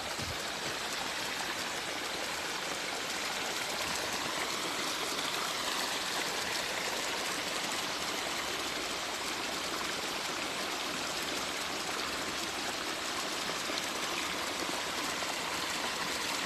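A stream runs over stones outdoors, giving a continuous broadband rush and trickle at a steady, moderate level, close to the microphone, with no voices.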